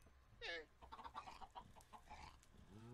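Minecraft chickens clucking in a quick series of short, clipped calls, close and fairly quiet, with a brief squawk at the start.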